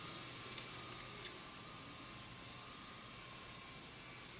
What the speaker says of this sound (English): that engine is running